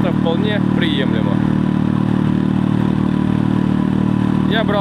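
Steady mid-pitched drone of a Parsun F5 BMS outboard motor pushing a small boat at about 20 km/h, loud and constant throughout with brief faint voices over it.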